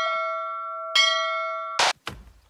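A bell-like clang of chopping in The Forest, three sharp metallic strikes with long ringing tones, the last two close together, fairly loud with no talk.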